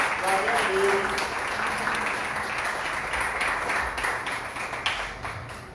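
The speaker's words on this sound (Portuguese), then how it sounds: "Dê uma salva de palmas ao Senhor." A church congregation applauds in praise, a steady dense wash of clapping that fills the whole stretch at moderate level, with faint voices mixed underneath.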